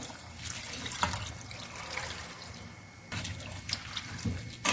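Water pours into a pot for shrimp soup with coconut milk in a home kitchen, a faint trickling and splashing stream with a few clinks, quiet and without talk.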